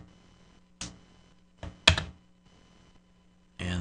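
Key presses on a BlackBerry Curve phone's keypad come as a few separate, sharp clicks, close by and spaced with pauses of up to a second or more, over a faint steady hum.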